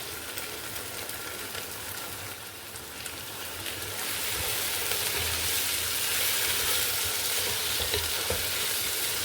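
Chopped tomatoes frying in a pan for tomato bath, a steady loud sizzle and crackle that swells after the tomatoes go in, with faint stirring scrapes and no talk.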